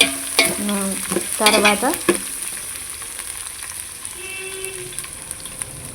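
Drumstick pieces and vegetables for a curry sizzle and fry in a pan, with stirring scrapes early on and a steady hiss throughout; a brief spoken word is heard near the start.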